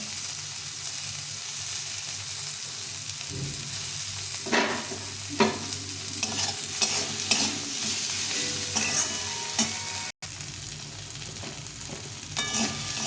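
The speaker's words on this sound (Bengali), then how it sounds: "সবজি ভাজা হয়ে গেছে তো হলুদ লবণ দিয়ে ভেজে নিয়েছি" Vegetables frying with turmeric and salt in a pan, a soft continuous sizzle with repeated scraping stirs of a spatula, close and fairly quiet.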